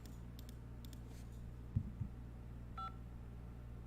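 Telephone keypad DTMF tones heard during a voicemail menu: a few short, faint beeps and clicks sound in sequence over a low steady hum, quiet and close.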